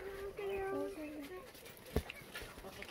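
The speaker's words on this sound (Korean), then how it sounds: "제가 오늘은 귀여운 고양이인 자네 모습을 한번 보여주도록 하겠습니다" A cat meows in a couple of short, tonal calls near the microphone, followed by a soft thump amid quiet room noise.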